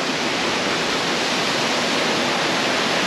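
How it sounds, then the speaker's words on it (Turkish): A stream in a snowy village near Kalkancı, Refahiye, Erzincan rushes with a loud, dense, constant hiss, close by and unbroken, with no voices. "Şöyle su akıyor."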